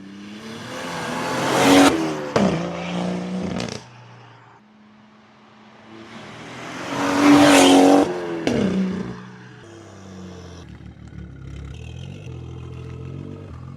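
A BMW with a B58 engine and a 5-inch downpipe exhaust revs hard in two loud bursts a few seconds apart, each followed by a rough, crackling idle.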